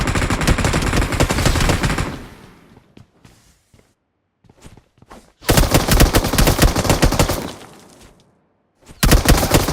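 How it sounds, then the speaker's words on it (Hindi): An M249 machine gun fires in PUBG Mobile in loud sustained bursts, cutting off for a few seconds of near silence with scattered shots before long automatic bursts resume. "वो मेरे पे फायर करने लगता है M249"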